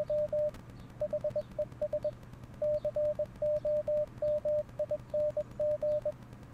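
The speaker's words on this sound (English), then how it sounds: "what was that Morse code?" Morse code beeps from a lost Tom and Jerry VHS tape, a steady tone keyed in short dots and longer dashes in irregular groups over a low hum and tape hiss, fairly loud and with no voices.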